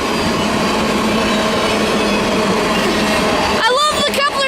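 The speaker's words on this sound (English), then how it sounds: "So a flammable train is coming past me right now." Freight train of tank cars loaded with flammable liquids rolling past close by, a loud continuous rumble and rattle of wheels, ending with squealing wheel tones.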